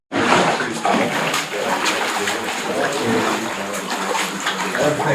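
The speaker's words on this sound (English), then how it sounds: "And this is rainwater, fresh." Fresh rainwater rushing through an underground river in a cave system in Mexico, a loud, steady watery roar with splashing and sloshing that fills the whole stretch, close by.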